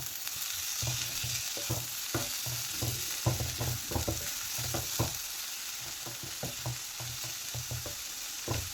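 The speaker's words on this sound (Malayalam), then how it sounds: "അതുകൂടി ഇട്ട് കൊടുത്ത് ഒന്ന് ഇളക്കി കൊടുക്കാം." Shredded cabbage and chopped carrot frying in a pan, a constant soft sizzle under repeated close spatula scrapes and stirs in an uneven rhythm.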